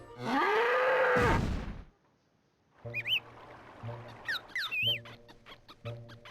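A cow in the video game Little King's Story lets out one long, loud, close moo. It is followed after a short pause by chirpy bird-like game effects and steady pulsing background tones.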